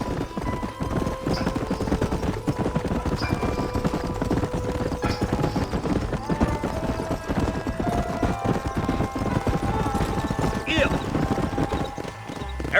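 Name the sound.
horses clip-clopping while riding, in video game Red Dead Redemption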